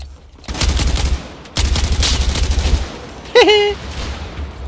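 Gunfire in the Battlefield 4 multiplayer video game, loud dense bursts of automatic fire in two long stretches with a short gap between them, then a brief chirping electronic tone, with voices talking over the action.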